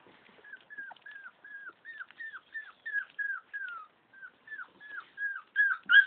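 Chow Chow puppies let out a long string of thin, high whimpers, one after another in a steady rhythm, growing louder and more insistent toward the end.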